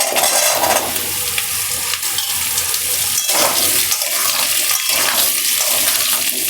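Pumpkin and potato pieces hit hot oil in a pan and fry with a loud, continuous sizzle, with occasional stirring scrapes through the dense hiss.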